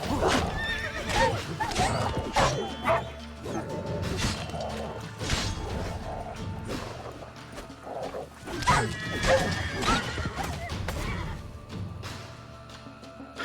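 Horse in the Witcher 3 video game neighs and whinnies repeatedly with clip-clopping hooves, loud and close amid busy game sounds and scuffling.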